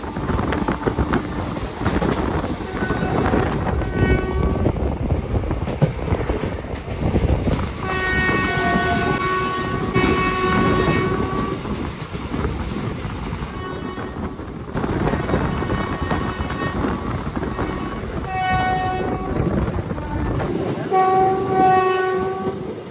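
The 13141 Teesta Torsha Express runs at about 100 km/h between Sealdah and New Jalpaiguri, a loud steady rumble and rattle of the moving train broken by several long, loud horn blasts.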